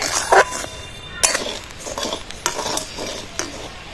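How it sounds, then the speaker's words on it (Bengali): Salt dry-roasting in a kadai as a metal spatula stirs and scrapes it, with irregular gritty scrapes and sharper clinks of metal on the pan, close and steady over a few seconds before chickpeas are added. "লবণটা ভালো করে কিন্তু এই খুন্তি দিয়ে ভালো করে নাড়াচাড়া করে ভেজে নিতে হবে"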